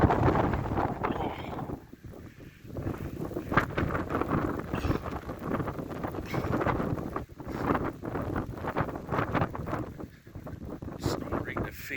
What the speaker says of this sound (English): Now I gotta walk back against the wind.